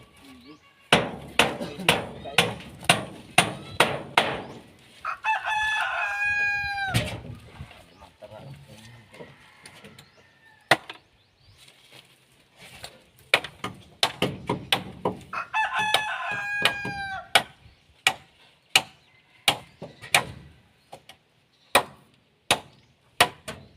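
A rooster crows twice, loud and close, amid sharp repeated chopping or hammering knocks and some background voices.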